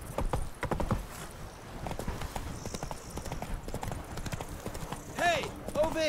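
Horse hooves clip-clop steadily in The Witcher 3: Wild Hunt, Blood and Wine, a close rhythmic trot that slows near the end, with a brief whinny and speech over part of it.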